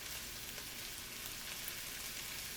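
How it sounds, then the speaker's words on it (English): Peas and carrots frying in a pan for turmeric rice, a faint, steady hiss of sizzling that stays even and unbroken, with no talking. "I'm going to allow the peas and carrots to cook for around 2 minutes."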